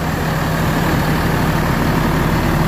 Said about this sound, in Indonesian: Dan untuk suara mesinnya sangat garing sekali ya.